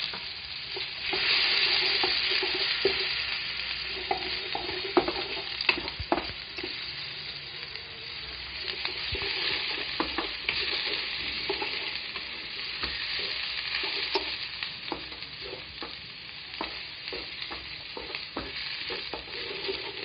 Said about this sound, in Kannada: ಈಗ ಈರುಳ್ಳಿ ಹಾಕೊಳ್ತಾ ಇದ್ದೇನೆ.